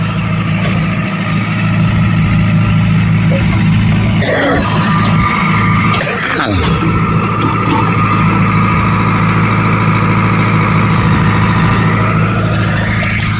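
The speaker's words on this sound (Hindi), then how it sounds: "ट्रैक्टर ये जेसीबी इसीलिए आया है" A JCB backhoe loader idles on a farm field, a loud, steady low engine drone throughout with a couple of brief rougher bursts partway in.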